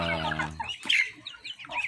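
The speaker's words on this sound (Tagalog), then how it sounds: "ang aking mga alagang manok, uh, pinakain ko sila ngayong hapon" Backyard chickens cluck and call in short bursts, close and fairly loud, with one longer drawn-out hen note at the start followed by quick choppy clucks.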